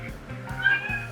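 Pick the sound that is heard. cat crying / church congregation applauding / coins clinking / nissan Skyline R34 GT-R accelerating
cat crying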